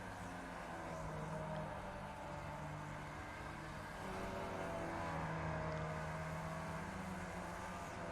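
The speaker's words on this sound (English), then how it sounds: "Must be that Porsche that we can hear idling as we come down pit straight." A Porsche race car idles on the pit straight at Okayama International Circuit in the iRacing video game, giving a steady low engine drone that holds without a break and stays fairly quiet.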